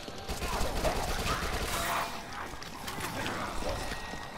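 Submachine gun fire rattles in the Dead Nation zombie shooter, a dense, continuous burst of clattering shots mixed with other game noise, loud and sustained through most of the clip.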